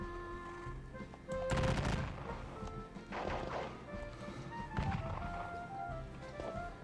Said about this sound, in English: I'm going to get shot in the face with cannons for my trouble